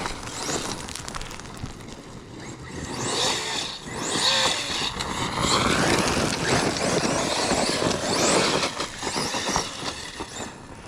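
Arrma Fireteam 6S RC car with Vitavon upgrades run at full throttle on dirt, a steady high electric motor whine that surges and fades with gravel crunch and wind rumble throughout, fairly close.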